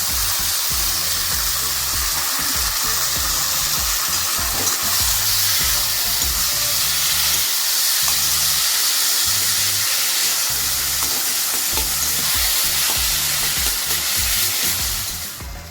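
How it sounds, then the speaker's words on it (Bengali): Drained boiled taro goes into a pan of fried grated coconut, sizzling loudly and steadily throughout, with scraping stirs and bubbling and no talk. "এবার এর মধ্যে আমি জল ঝরানো সেদ্ধ কচুগুলোকে দিয়ে দিচ্ছি।"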